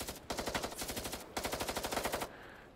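Rapid automatic gunfire in the video game Cuisine Royale, two long loud bursts of evenly spaced shots separated by a brief gap, ending in a fading tail.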